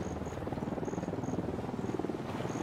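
A helicopter in the game Ghost Recon Wildlands set in Bolivia, a steady, close rhythmic rotor thumping that pulses continuously for a few seconds with a faint high whine above it.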